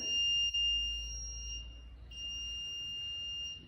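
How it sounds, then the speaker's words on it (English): An infrared sensor scarecrow sounds a sustained high-pitched electronic alarm tone that breaks off for a moment and then resumes steadily. It is fairly faint and steady, with no speech. "you can see that it buzzes an alarm"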